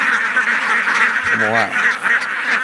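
Free-range ducks on a farm pasture in a freshly harvested rice field give a short quack burst, heard under steady background noise and people talking.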